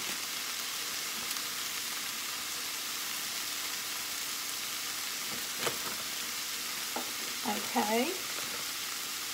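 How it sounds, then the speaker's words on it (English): Baked beans bubble and sizzle in a pan at a steady broadband hiss, with a few scraping stirs near the end and a single brief spoken word. "I need to keep stirring these so they don't burn."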